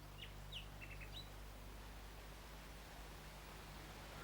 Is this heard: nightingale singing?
yes